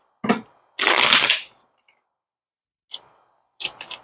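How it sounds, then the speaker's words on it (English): Playing cards are shuffled by hand, a short riffle followed by a longer dense rattling burst, then a few softer riffles after a pause, close and clear with no voices. "Y'all see me shuffling,"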